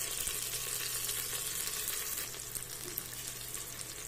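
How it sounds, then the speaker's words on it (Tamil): Onions sautéing with salt, mint leaves and green chili in a pan, a steady soft sizzle throughout with a faint low hum underneath, no voices. "வெங்காயம் நல்லா வதங்கி வரிறதுக்காக வேண்டி கொஞ்சமா உப்பு ஆட் பண்ணிக்கலாம்"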